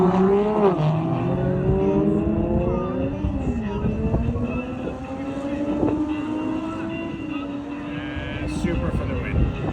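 A Toyota Supra and an Audi S4 race side by side, engines revving up through rising gear pulls with loud nearby tones under talk.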